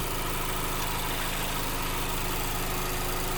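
A car's 2.5-liter four-cylinder engine idles steadily up close, a constant low rumble and hum with a faint vibrating drone and no voices.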